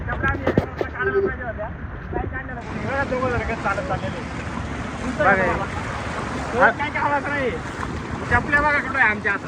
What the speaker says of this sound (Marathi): हे लाटा बघा हे लाटा हे आले बघा याच्या लाटा याच्या अतिशय समुद्र खवळलेले आहेत